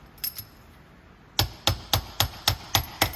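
A hammer taps a seized Hypro D30 pressure regulator clamped in a vise: two light metallic taps, a pause, then seven evenly spaced, ringing strikes, close and clear.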